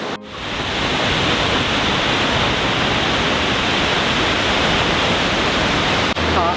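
Helmcken Falls, a tall Canadian waterfall, roars as a steady, loud, broadband rush of falling water, constant from start to finish with no voices over it.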